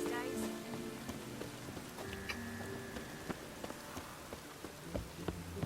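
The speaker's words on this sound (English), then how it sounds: "The rains these days." Steady rain patters on surfaces in The Witcher 3: Wild Hunt, a dense, even drizzle with scattered drops, mixed with faint ambient game tones and a brief murmur of voices.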